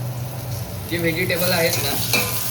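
Vegetables and onion fry in a pan for a homemade Manchurian sauce, giving a steady close sizzle that grows louder and busier partway through as ingredients hit the oil, with stirring clatter and no talk.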